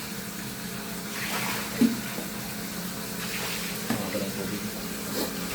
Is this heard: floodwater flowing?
yes